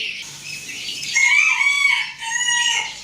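A white hen in a poultry coop gives clear, bright calls, a drawn-out clucking run from about a second in with a short break near the two-second mark, loud and close with no voices.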